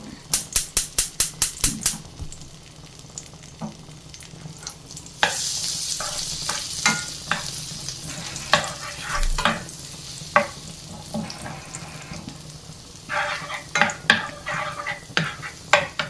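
Butter melting in a hot pan for a semiya pudding gives a soft, steady sizzle, opening with a quick run of sharp metallic taps, then louder bursts of frying hiss and utensil clatter recurring throughout.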